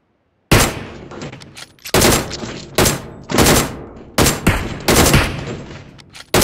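Loud bursts of gunfire in the video game PUBG, several rapid automatic volleys of close, sharp shots separated by short pauses, with no talk over them.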